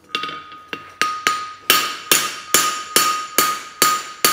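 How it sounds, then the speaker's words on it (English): A hammer cold forges a straight-bar horseshoe with a fullered, rolled toe, about a dozen sharp ringing metallic strikes in a steady rhythm, each blow close and loud with a short bright decay. "A bit of cold forging, putting a bit of a shine on it."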